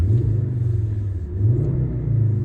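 A 2010 Ford Kuga Titanium 2.5T with a turbocharged five-cylinder engine revs, a deep rumbling note that rises and falls twice, close and steady, with no talking.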